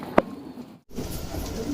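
Homing pigeons give a single sharp coo or call, followed by a brief gap and then soft, rustling movement close by.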